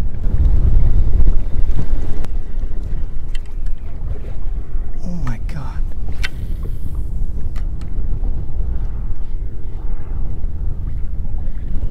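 Strong wind roars steadily across an open boat while fishing, a loud continuous rumble of gusts buffeting the microphone throughout.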